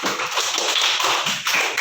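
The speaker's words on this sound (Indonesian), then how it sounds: "Bagus, tepuk tangan dulu." Schoolchildren in a primary school classroom clapping their hands together, a fast, loud, steady patter of many small claps close by, with no talking.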